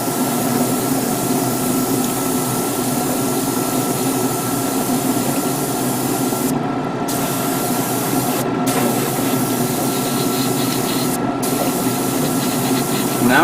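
An airbrush or spray gun hisses steadily while paint goes onto the leg of a Gundam model, a close continuous spray with a few brief pauses.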